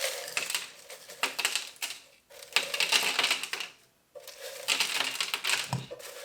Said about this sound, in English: And then I like to refill with crushed ice.